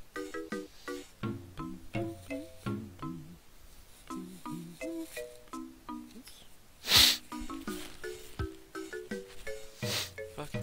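A character sniffles in the SNES game Final Fantasy 3, one short, breathy, noisy burst cutting through the bright chiptune music that plays steadily throughout.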